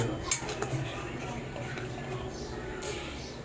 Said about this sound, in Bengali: জলের সাথে মশলাটাকে ভালোভাবে মিশিয়ে নিই।